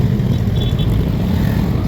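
Steady, close engine drone and wind rush from a motorcycle on a Saturday ride along a village road in Nepal, continuous with no pauses.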